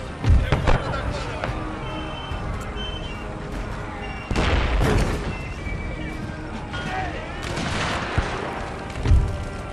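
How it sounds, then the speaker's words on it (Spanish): Artillery pounding away in a Russian Empire strategy video game, with repeated heavy booms and crackling blasts, some near and loud, others rolling in the distance, under an excited voice talking. "están ahí reventándome con la artillería"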